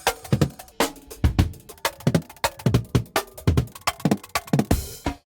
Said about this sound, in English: it's changing the pitch of our drum signal as it goes through this modulator.